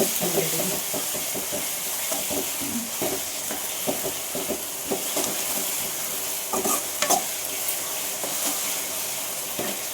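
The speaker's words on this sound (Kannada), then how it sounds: "ಈಗ ಎಣ್ಣೆ ಒಳಗಿದ ಫ್ರೈ ಆಗ್ಬೇಕು ಹಸಿ ವಾಸನೆ ಪೂರ್ತಿ ಹೋಗ್ಬೇಕು" Vegetable palya frying in oil while being stirred, with a steady sizzle and repeated scraping stirs of a spoon or ladle through the pan, close by, running throughout without speech.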